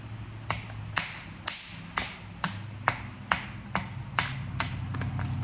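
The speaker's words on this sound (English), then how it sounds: "One of those areas has to be clipped off if you want it to roll on over." A quartzite stone point is knapped with a string of about a dozen sharp, ringing strikes at a steady pace, each a crisp clink that fades quickly, close and alone.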